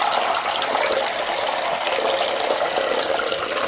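Water gushes steadily into a container, a continuous loud pour with no talk, part of a test of a new £5 note.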